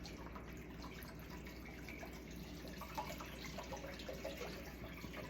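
Bottled water pours into a pot of arroz verde being cooked, a faint, steady trickle and splash running throughout with small drips, and no talking.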